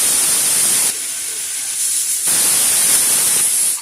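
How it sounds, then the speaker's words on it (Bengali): A pressure cooker on a gas stove vents steam in a loud, steady hiss, briefly dropping in force twice before surging again, close and alone. "5টা সিটি দিয়েছি, দিয়ে গ্যাসটা বন্ধ করে দিলাম।"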